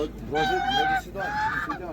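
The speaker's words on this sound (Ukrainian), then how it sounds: "Це починаємо з таких гусей, трохи пізно приїхали" Geese honking at a village animal market in Khryplyn near Ivano-Frankivsk, two drawn-out nasal calls in quick succession, close and fairly loud, with people talking around them.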